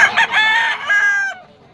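A Sweater Gilmore bloodline gamefowl rooster with a straight comb crows once at close range, a loud, harmonic, drawn-out call of under two seconds that trails off.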